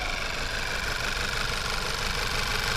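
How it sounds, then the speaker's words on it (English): A Volkswagen engine with a misfire on cylinder number 2 runs at a steady idle, giving a continuous close rumble with an uneven, knocking roughness throughout and no voices. "got a misfire in there. It's actually cylinder number 2."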